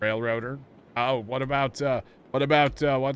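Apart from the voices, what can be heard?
None of the usual background noises is heard.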